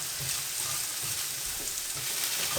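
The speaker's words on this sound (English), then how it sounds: "we just gonna mix and mix until they all caramelize" Onions sizzling on a grill for a pork chop sandwich, a steady broadband hiss with soft scraping and stirring sounds underneath, close and even throughout with no voices.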